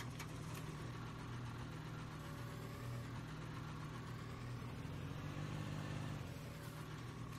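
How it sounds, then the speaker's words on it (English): A farm tractor engine idles at a steady, low hum. It sounds faint and somewhat distant, and the level stays even throughout. "We'll just have to move this tractor."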